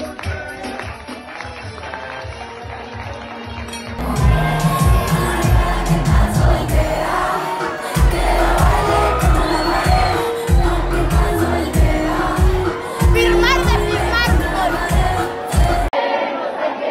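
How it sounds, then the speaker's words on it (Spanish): A large crowd claps and cheers loudly and continuously, with shouts and whoops rising above steady applause, after a quieter stretch of murmuring at the start. "Fuerte el aplauso"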